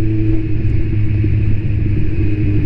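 A Kawasaki Z1000 motorcycle's exhaust rumbles loud and close, a deep, steady, throbbing drone that holds for the whole stretch.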